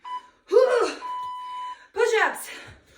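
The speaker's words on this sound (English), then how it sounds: "There's the timer." Workout interval timer giving a steady electronic beep lasting about three quarters of a second during a dumbbell strength session, with a trainer talking before and after it.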